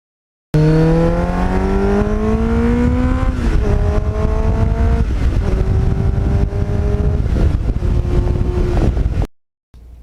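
A Kawasaki Ninja motorcycle fitted with a Muzzy exhaust revs loud and close, its engine note climbing steeply and then stepping up through several shifts in a continuous high wail before cutting off abruptly near the end.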